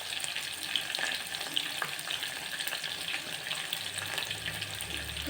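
Curry leaves drop into hot oil for a veg pulao and fry with a steady crackling sizzle that stays close and even throughout.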